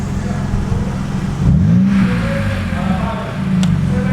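A BMW E90 with a single-exit exhaust and its silencer removed revs up, a loud, raspy engine note rising and falling in a couple of swells over a steady rumble, with a voice audible alongside.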